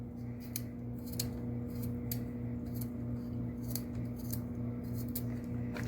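A coconut is chopped into small, fine pieces, giving a run of sharp, crisp cutting clicks spaced about half a second apart, close and moderately loud over a low steady hum, with no talking.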